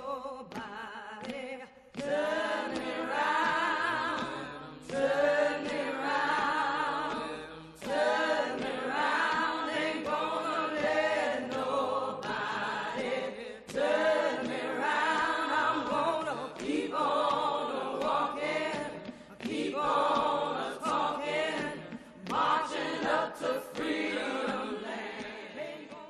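Recording of the civil rights song Ain't Gonna Let Nobody Turn Me Around, sung voices carrying the melody with rhythmic backing, moderately quiet and continuous with brief pauses between phrases.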